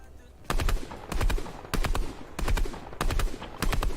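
Rapid automatic gunfire from a video game, sounding in six loud bursts of quick shots spaced about half a second apart, with no voices over them.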